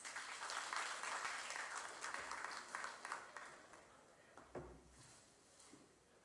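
Applause from an audience at a stakeholders' forum, a faint, distant patter of clapping that swells early and then gradually tapers off.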